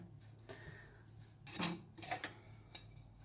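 Ceramic plates are handled indoors, giving a few light clinks and scrapes at irregular intervals, quiet and close, with no talking.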